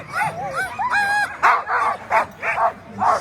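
Team of eighteen Alaskan Husky sled dogs at the start of a sprint race in Anchorage, barking, yipping and whining excitedly in rapid overlapping bursts close by.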